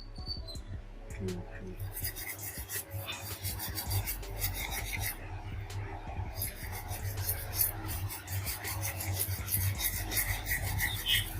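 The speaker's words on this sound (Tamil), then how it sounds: "இப்போ நம்ம வந்து சால்வ் பண்ண பேஸ்ட்டு க்ளீன் பண்ணுவோம்" Steady rasping and rubbing as paste is scrubbed off a laptop circuit board during a Gateway NE46RS screen backlight repair, close and continuous with small scratchy strokes throughout, no talking.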